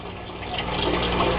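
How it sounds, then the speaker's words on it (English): A submersible water pump runs in an aquaponics fish tank, giving a steady loud low hum with a watery churn and no breaks. "submersible water pump."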